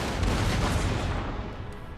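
Rumbling, crackling volleys from Austrian and Maratha Confederacy troops fire in quick succession in a Total War: Empire battle, a dense loud roll of rifle and musket shots that tapers off slightly at the end.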